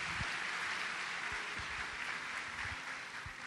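A church congregation applauds, a steady, distant wash of clapping that holds evenly throughout and fades slightly at the close.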